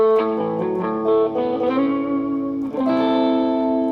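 An electric guitar played through a germanium fuzz preamp into a PiG, with Neve-style EQ, compression and Galaxy Echo, rings out in sustained, thick distorted chords with a wide echo tail, loud and steady, then restruck near the end.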